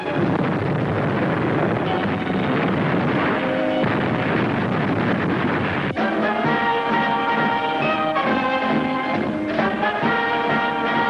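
Broadside cannon fire from a naval ship in an old film serial, a loud, sustained roar of blasts and rumbling that fills the whole stretch, with a jolt partway through and no talk.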